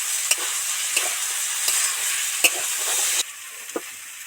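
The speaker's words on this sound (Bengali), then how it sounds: "আলু ডুমুর টমেটো ভালো করে ডিপ ফ্রাই হয়ে ভাজা হচ্ছে" Steady crackling sizzle of potatoes and figs deep frying in oil, with a few sharp clinks of a utensil against the pan; the frying hiss softens near the end.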